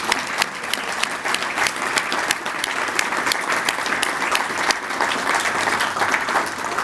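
An audience at a volunteer recognition reception claps for community volunteers, giving sustained, fairly loud applause with crisp individual claps and a faint crowd murmur underneath.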